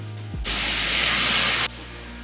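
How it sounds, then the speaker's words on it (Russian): A loud, sudden sizzling hiss bursts up as grated carrot with a drop of water hits a frying pan, holding for over a second before cutting back to a quieter background. "Зашкварчало, зашипело."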